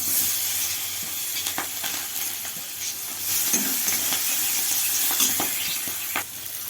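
Nigella seeds and onion hit hot oil for a fish curry tempering, giving a steady, close sizzle and hiss broken by occasional scraping stirs in the pan.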